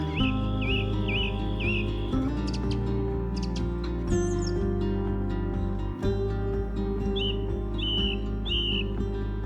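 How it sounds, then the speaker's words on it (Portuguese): A Himalayan colony mammal gives repeated sharp alarm chirps in short bursts, heard over a loud steady drone of background music. "ao escutar este particular chilreio, o predador sabe que perdeu o fator surpresa"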